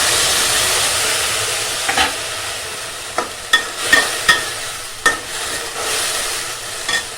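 Bread bhaji stirred in a pan over a high flame: a steady frying sizzle with several sharp spoon scrapes and clinks against the pan, close and clear, no talking.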